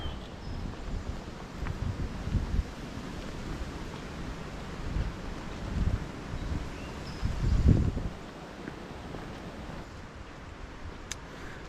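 Wind outdoors in misty air near a wooded park, a soft broadband rush with low gusty buffeting that swells and fades, faint and steady with no voices.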